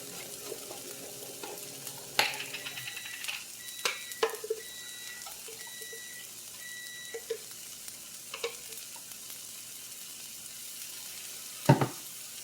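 Garlic sizzles in a hot frying pan, a soft steady hiss with a few sharp scrapes and clinks of stirring, and a quiet tone sounding now and then.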